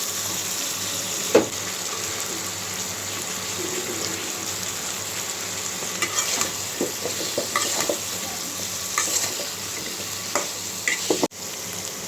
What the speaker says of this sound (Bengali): তো বেগুন আলুটা কষানো হয়ে গেছে মশলার সাথে